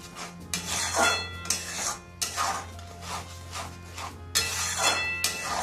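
A spoon scrapes and stirs a ground paste of cashews and melon seeds in a pan while cooking paneer masala. Close, rhythmic rasping strokes come in bursts separated by short pauses, with occasional light clinks of metal.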